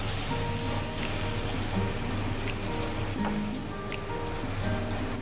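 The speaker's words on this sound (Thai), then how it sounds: "จะผัดให้กุ้งสุกก่อนนะครับ" Shrimp stir-fry in a hot pan, the first step of a white wine spaghetti, with a continuous close, even sizzle like rain on a roof and a faint low hum beneath, no voices.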